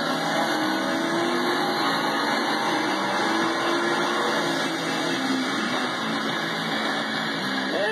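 A supercharged Coyote V8 on a dyno at wide-open throttle, with a loud, steady, dense roar that runs unbroken for the whole stretch and never lets up. No one speaks.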